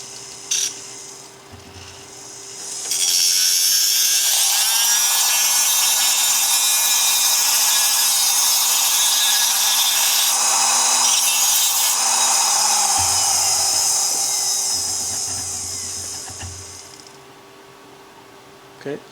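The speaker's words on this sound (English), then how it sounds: "Just going to use this small cut-off wheel to cut off one side of the tabs." A small cut-off wheel bites into the metal tabs on a knife, a loud, high, sustained grinding whine for about twelve seconds that winds down at the end.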